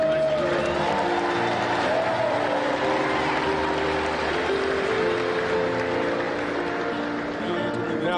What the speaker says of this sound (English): Give another round of applause.